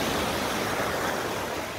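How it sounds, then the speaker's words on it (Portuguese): Sea waves at a beach in Bombinhas, Santa Catarina, with a steady, close wash of surf filling the whole stretch as an even broadband roar, no voices. "Se vocês estão me ouvindo bem, tá do barulho do mar."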